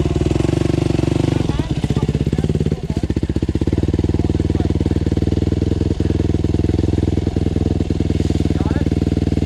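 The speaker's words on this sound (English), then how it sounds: "I mean, it's idling." A dirt bike engine idles loudly and close on a rough trail ride, a steady throbbing rumble that runs without pause throughout while people talk faintly over it.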